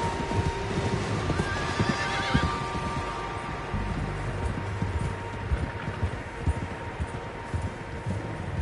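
Horses in Red Dead Redemption 2 whinny and snort while their hooves clop steadily on the ground, a high whinny rising early, followed by continuous nearby hoofbeats and rustling over a moderately loud outdoor background.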